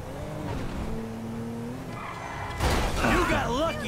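Car in GTA 5 skidding and crashing, with a steady engine drone giving way to a louder burst of squealing tires and impact near the end, under game voices.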